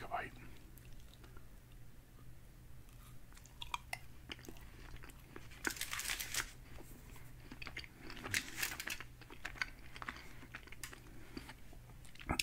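Close, crisp crunching and chewing of a thick chocolate Easter bunny, soft bites and mouth sounds recurring through a quiet room, with a few louder crunch bursts and faint murmured talk underneath.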